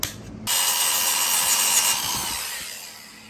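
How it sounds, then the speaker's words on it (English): A bent wood floating guitar stand is sanded by hand, making a brief burst of harsh, raspy abrasive rubbing that starts sharply, holds for about two seconds, then tapers off. "still got to sand this all up because it looks terrible"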